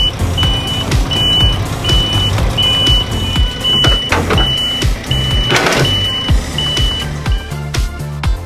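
A Scania R450 truck reverses under a trailer by remote control, a steady reversing beeper repeating about once a second over a loud diesel idle with a few clunks and mechanical noises.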